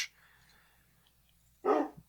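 A single short, gruff bark from a tamed wolf in the video game Minecraft lands near the end after a quiet stretch, clear and close with nothing else around it.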